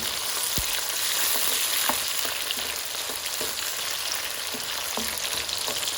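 Chicken pieces browning in a hot frying pan for a curry, a steady loud sizzle with occasional faint scrapes and pops, close and without speech.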